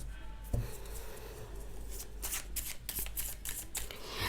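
Tarot cards are shuffled and handled close up, giving soft, rapid riffling and sliding flurries with a light tap near the start, at quiet volume.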